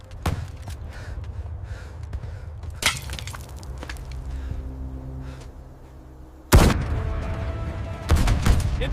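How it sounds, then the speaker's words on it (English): Gunfire in a tank battle ambush: scattered sharp shots and heavy blasts, with loud bursts breaking through low rumble and a dense eruption toward the end. "The ambushers are forced into action. First shot returns fire."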